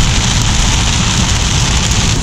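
Heavy summer downpour hammers a narrow road in Norway, a dense, loud, unbroken roar of rain with no voices.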